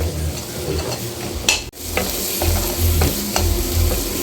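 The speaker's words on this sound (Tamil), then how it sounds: "இதை அப்படியே ஃப்ரை ஆகட்டும்" Garlic and crab curry masala frying in a little oil, loud close sizzling with scraping stirs of a ladle against the pan and one brief sharp clatter partway through.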